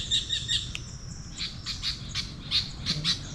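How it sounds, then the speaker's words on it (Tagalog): Birds squawk and chirp in scattered bursts from trees in a quiet forest area, a mix of sharp calls near and far with no talking. "So may narinig ako ng mga ibon."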